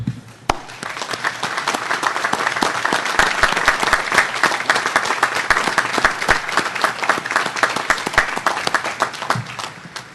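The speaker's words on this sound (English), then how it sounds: "I invite you to join me in applauding those who love you the most" A large commencement crowd at a college graduation ceremony applauds the graduates' parents: dense, steady clapping that holds evenly for about ten seconds and fades at the very end.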